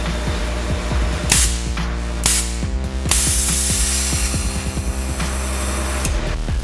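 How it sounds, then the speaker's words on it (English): A GFB DV+ diverter valve on a boosted engine at about 30 psi, snapping open and shut in three sharp whooshing bursts over a loud, steady engine drone. "the valve opens and closes pretty much instantly, even at 30 psi of boost"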